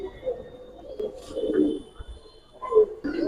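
Jabra Pankhi Giribaz pigeons cooing close by, with soft, repeated throaty coos in uneven bursts and no talking.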